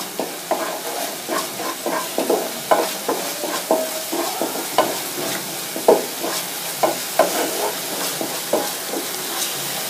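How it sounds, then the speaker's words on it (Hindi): Masala for arbi (taro) fry sizzles in a pan on high flame while being stirred continuously, with rhythmic spatula scrapes and knocks repeating about every half second over a steady frying hiss. "गैस हाई करके इसको लगातार हिलाते रहना है"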